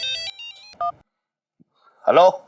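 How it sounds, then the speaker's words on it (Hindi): A mobile phone plays a bright electronic ringtone melody at close range, then goes quiet before a voice speaks. "अरे ये तो पंचम की माँ का फोन है, अगर ना उठाया तो परेशान हो जाऊंगी।"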